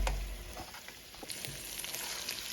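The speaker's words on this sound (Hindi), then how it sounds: "अब इसको मज़ीद मुझे 5 मिनट तक भूनना है" Masala sizzling and frying in oil for a mutton yakhni soup, a steady close crackle with a few brief stirring knocks, heard on its own with no talk.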